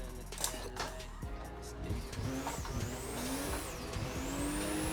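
A race car engine in the Assetto Corsa driving game whines and revs steadily, its pitch climbing and dipping through gear changes with some tire noise, loud and continuous throughout.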